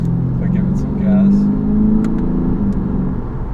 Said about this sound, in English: So let's see if I give it some gas.